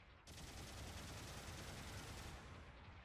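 Rapid Vulcan gunfire from the F90 Support Type in Gundam Battle Operation 2, fired while boosting, rattles as one continuous loud burst for nearly the whole stretch after a brief quiet start, with no talk over it.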